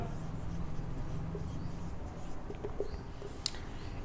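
A pen writing on paper while working a Class 9 geometry problem, giving a steady soft scratching that runs throughout with small taps and strokes, close and fairly quiet.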